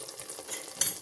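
Chicken masala fries in a pan with a soft, steady sizzle and light stirring scrapes, ending in a brief brighter crackle.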